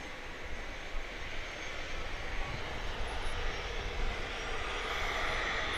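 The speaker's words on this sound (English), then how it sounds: "Off to Miami goes Cayman Airways Flight 104" A Cayman Airways jet airliner on Flight 104 to Miami takes off from Grand Cayman airport, giving a steady, broad engine roar that holds at moderate distance and swells slightly over several seconds with no talk.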